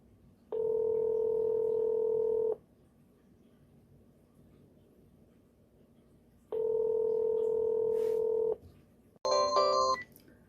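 A telephone call goes out: two long, steady ringback tones a few seconds apart, then a quick burst of bright dialing beeps at the end. Nearby, clear and alone, with no voices.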